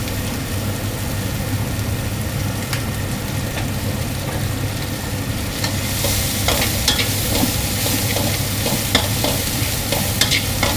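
Pork sizzles and crackles in a hot wok while being stirred, with scraping clinks and a steady background hum throughout, no talking.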